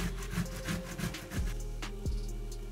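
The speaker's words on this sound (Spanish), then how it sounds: "voy a rallar un par de tomates" Whole tomatoes, unpeeled, rubbed by hand against a grater for a tuna marmitako stew, giving a steady back-and-forth rasping scrape in short repeated strokes, close and alone.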